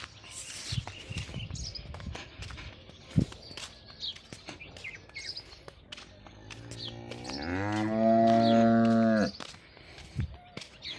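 Cattle and buffaloes on a farm low with one long, loud moo near the end while being given fodder, amid footsteps, rustling and faint bird chirps.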